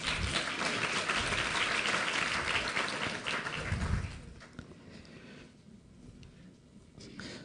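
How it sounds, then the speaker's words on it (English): Audience applause for volunteers coming forward at an emergency medicine lecture on ECG electrolyte disorders, a dense steady clapping that fills the room for about four seconds before thinning out into quieter scattered claps and room noise. "let's give them a big round of applause"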